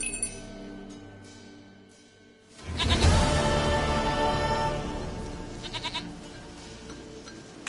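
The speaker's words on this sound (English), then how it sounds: "Goat of mine, dearest," A goat bleats in Witcher 3, a wavering, nasal bleat rising suddenly after a quieter stretch with game ambience, followed by a lingering second cry and a few faint clinks.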